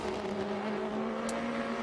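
Racing sports cars from the American Le Mans Series pass on the Road America circuit, a steady loud engine drone with a sustained tone running throughout, no voices.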